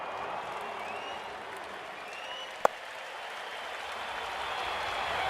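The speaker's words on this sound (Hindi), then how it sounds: "ऐसी गेंद पर सिर्फ तालियां मिलती है, रन्स नहीं।" A large IPL cricket stadium crowd in a Chennai Super Kings versus Mumbai Indians match applauds a dot ball, a broad, distant roar of clapping that holds steady throughout with one sharp click partway.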